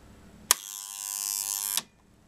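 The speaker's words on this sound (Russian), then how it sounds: "Включаю диф-автомат и нажимаю кнопку тест." An RCBO circuit breaker with its test button pressed gives a sharp click, then a steady, loud electrical buzz lasting over a second, ending in a second click.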